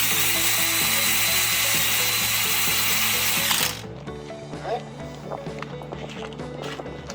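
A power drill drives screws into a wooden horizontal beehive in one loud, steady whirring burst close by, which stops abruptly and gives way to quieter clicks and handling sounds.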